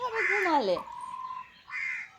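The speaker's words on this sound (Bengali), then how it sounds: "এই কাক ডাকছে মাঝে মাঝে এরকম করে করে ডাকাচ্ছে" A crow caws harshly at close range, one drawn-out call and then a shorter one after a brief pause, with a person speaking softly in between.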